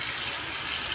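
Water from a tap runs while a face is rinsed, a brief steady bright hiss of flowing water heard close up.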